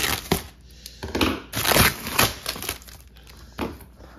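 Scissors slicing through packing material while unboxing an indigo 500 MHz iMac G3, giving a few close, sharp crunching cuts with crinkling in between, heard alone without talk.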